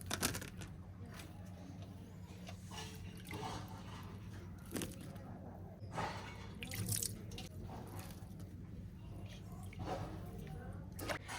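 Spiny gourds (kantola) being washed in water, with splashing, dripping and squishing as they are rubbed and moved about in a basin, close and irregular, with occasional faint voices.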